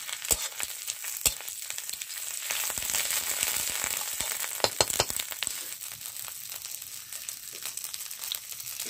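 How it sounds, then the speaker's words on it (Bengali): Whole white cumin and ginger paste frying in hot oil for a katla fish curry, giving a steady close sizzle with sharp crackling pops, busiest in the first seconds and settling into a softer hiss. "তেল গরম হয়ে গেছে, গোটা সাদা জিরে, আদা বাটা"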